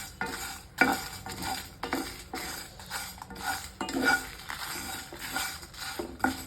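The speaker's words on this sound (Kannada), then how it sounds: "ನಾನು ಎಣ್ಣೆ ಬೇಕಿಲ್ಲ ಅಂದ್ಬಿಟ್ಟು ಡ್ರೈಯೇ ಮಾಡ್ತಾಯಿದ್ದೀನಿ" Lentils dry roasting in a pan without oil, rhythmic scraping strokes of a utensil stirring and rattling the dry grains against the metal, close and fairly quiet, with no voices.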